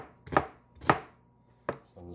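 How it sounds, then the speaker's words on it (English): A kitchen knife chops through an onion on a cutting board, three crisp separate strikes spaced unevenly apart and close up, followed by a softer scraping sound, with no talking. "So I'm just going to do a fine dice on this."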